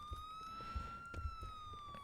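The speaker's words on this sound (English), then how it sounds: "I hear there is a siren." Police siren in GTA 4, a faint steady wail holding one rising tone, heard at a distance over low thumps of game noise.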